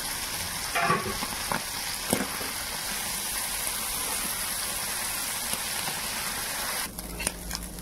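Sardines frying in a pan with thin tomato slices, a dense, even sizzle like light rain, with a few brief stirring knocks near the start and end, close and without speech.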